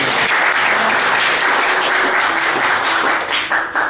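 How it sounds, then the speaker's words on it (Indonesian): Steady audience applause fills the hall at a Hindu community talk event in Bali, loud and continuous clapping that thins slightly near the end. "Beri tepuk tangan."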